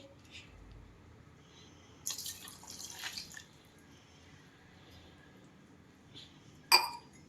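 Water is poured during food preparation in a short trickling burst, soft and close, followed by quiet and a single bright clink near the end.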